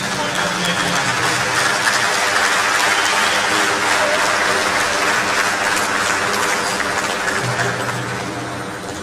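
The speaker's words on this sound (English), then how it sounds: "Can we have another round of applause" Broad, steady applause from a lecture audience fills the room without a break, holding loud for most of the stretch and easing slightly toward the end.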